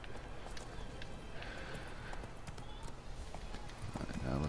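A horse's hooves clip-clop in The Witcher 3: Wild Hunt game, an irregular run of hoof strikes under a man's speech, with a louder, closer stretch at the end.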